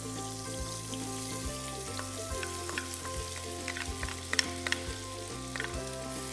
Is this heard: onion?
yes